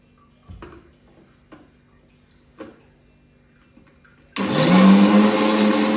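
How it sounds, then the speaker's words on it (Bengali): A kitchen mixer grinder blending onion, ginger, garlic and green chilli into paste switches on abruptly after a few quiet ticks and clinks, then whirs loud and steady close by. "মিক্সিতে এখন পেঁয়াজ, আদা, রসুন আর লঙ্কা ভালো করে পেস্ট করে নেব।"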